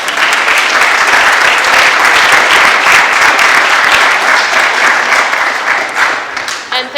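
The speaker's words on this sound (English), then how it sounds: "round of applause to Deliveroo" Loud, dense applause from an audience at a London Go programming meetup hosted by Deliveroo, sustained and close for several seconds before thinning out at the end.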